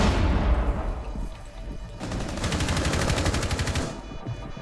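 Rainbow Six Siege gunfire: a dense burst of rapid automatic shots, fairly close and loud, a steady rattling stream running through the middle of the moment after heavier low thumps at the start.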